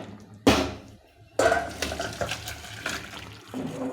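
A pot of fish curry with cauliflower and potato is lifted off the stove with two sharp metallic clanks, followed by lighter clinks and scraping of utensils, close by with no talk.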